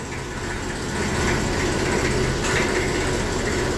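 A steady, rumbling diesel engine of a small Massey 35 tractor runs close by, its low drone growing slightly louder and then holding constant, with no talking.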